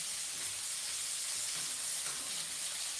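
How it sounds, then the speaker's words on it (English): Shrimp stir fry sizzling in a pan, a steady hissing wash of frying and steam that holds evenly throughout at a moderate, close level with no talking. "Just making a shrimp stir fry now."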